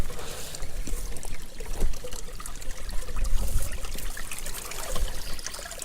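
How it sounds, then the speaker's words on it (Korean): A small stream in an autumn mountain valley near a temple at Naju trickles and flows over rocks in a steady, close, fairly loud burble that continues alone without speech. "이렇게 물 흘러 내려가는 소리가 참 정겹네요"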